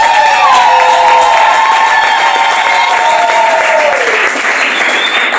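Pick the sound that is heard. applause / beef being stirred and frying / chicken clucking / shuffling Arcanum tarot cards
applause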